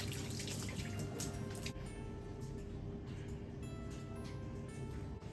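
Tap water running in a kitchen sink during hand washing, a faint, steady hiss and trickle throughout.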